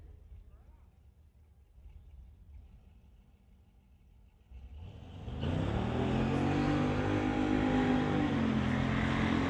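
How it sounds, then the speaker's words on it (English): A Chevy drag car launches with big tire spin at a street legal drag strip; quiet rumbling gives way to a sudden loud, sustained engine roar with climbing revs, and a commentator talks throughout. "Oh, a big, big tire spin there for that Chevy"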